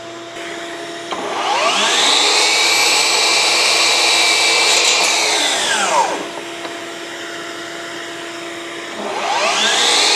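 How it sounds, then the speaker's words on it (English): A shop vacuum runs while hooked by an adapter to a Flex 12-inch miter saw. Its loud, close whine spins up, holds for about five seconds, winds down, then starts up again. "But this particular vacuum, I've got a nice little adapter here, so why not use it?"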